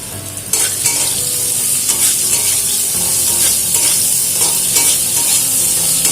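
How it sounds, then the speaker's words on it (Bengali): Cut potatoes fry in mustard oil with whole cumin in a wok, a loud, close, steady sizzle with stirring scrapes and crackling throughout. "আলুগুলোকে একটু ভেজে নেব।"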